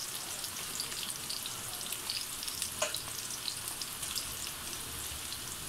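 Cumin seeds and onions sizzle in hot oil for aloo ka bharta, making a dense, even crackling hiss that holds steady, with a brief stir partway through.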